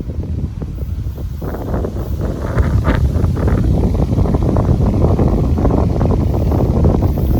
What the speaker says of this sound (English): Really windy out.